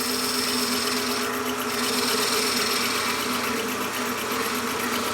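A chisel cutting wood on a Shopsmith wood lathe while turning a mushroom: a steady motor hum and whirr with a continuous scraping hiss of the blade on the spinning wood, constant and close throughout.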